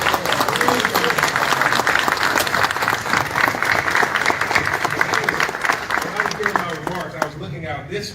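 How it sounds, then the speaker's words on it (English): Audience applause at a community media channel grand opening in Atlanta, Georgia: dense, steady clapping from a crowd filling the room, loud and sustained before thinning out near the end. "applause."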